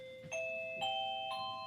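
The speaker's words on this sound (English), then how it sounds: "When the bell rings, class starts." Three chiming tones ring out in a descending-then-rising sequence from a classroom bell, each note sustained and overlapping the last, clear and fairly close with no talking.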